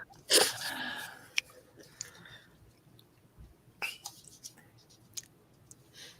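A single sharp sneeze bursts out near the start, close and loud, followed by quiet clicks and faint mouth sounds.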